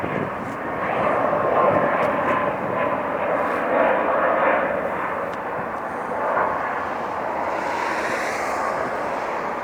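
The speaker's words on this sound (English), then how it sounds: "Nice and smooth takeoff." A Lufthansa Boeing 747 taking off, with a steady broad jet engine roar that holds loud and even throughout and surges slightly partway through, heard from a distance outdoors.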